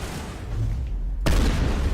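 A shotgun fires in the video game Mass Effect: one sharp, loud blast hits about midway through, then heavy rumbling from the game keeps going after it.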